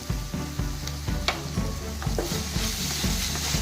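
Soy and chilli sauce being stir-fried in a street-style pan for chicken fried rice: a loud close sizzle with a rapid, regular rhythm of spatula tosses and metallic scrapes, no voices.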